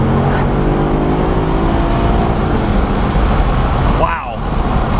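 A Maserati Quattroporte launching hard from a roll, its engine note climbing in rising harmonic sweeps over road and wind noise, then a quick shift break near the end.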